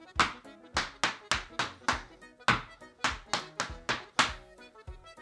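Irish dance hard shoes strike a wooden floor in a treble reel, about a dozen crisp, loud taps and bangs in an uneven rhythm, heard close and alone.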